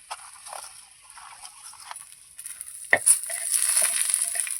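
Red chillies and coriander masala dry-roasting in a pan, with soft scraping stir strokes and a thin hiss that swells louder toward the end, punctuated by a sharp clack near the middle; no voices.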